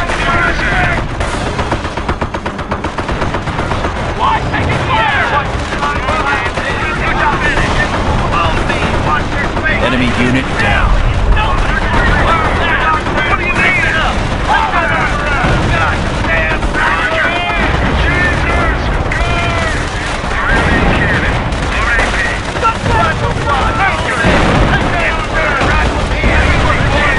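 Dense, continuous gunfire and machine-gun bursts rattle through a video game campaign mission, loud and unbroken, with shouted voices mixed into the chaos.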